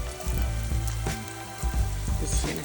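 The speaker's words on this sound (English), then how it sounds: "I've added a little oil to my pan, and I'm going to fry my plantain pieces" Pieces of one green plantain frying in a little oil in a pan, a loud, steady crackling sizzle with bursts of spattering pops.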